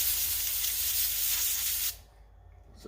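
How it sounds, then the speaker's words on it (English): Aerosol cleaner blasting a part from a Coleman 530 G.I. A46 pocket stove, a loud continuous spray hiss lasting about two seconds before cutting off abruptly into near quiet. "and then spray it off."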